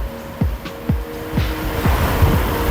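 Rising whine of an electric bike's motor accelerating on throttle alone, loud and close, with repeated upward-sweeping tones stepping through gears over wind noise.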